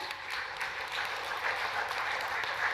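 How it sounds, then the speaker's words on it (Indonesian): Audience applause fills a hall at a public debate between regency head candidates in Ogan Komering Ulu, a steady, fairly loud wash of clapping lasting a few seconds with no voices over it. "Kita berikan tepuk tangan yang meriah."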